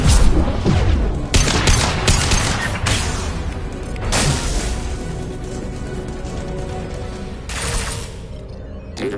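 Sustained gunfire in the Mass Effect Legendary Edition during the assault on the geth heretic headquarters, loud overlapping shots and booming impacts that swell in bursts over a constant battle din.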